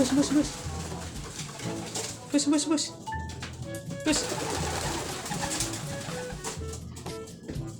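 Pigeons coo repeatedly at close range, soft throaty calls mixed with wing flapping and general rustling, while people talk over the birds throughout.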